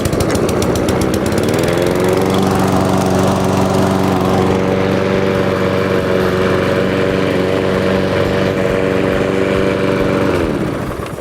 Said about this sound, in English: So we can now start it. We'll put the choke on, pull the red lever back, and away it goes.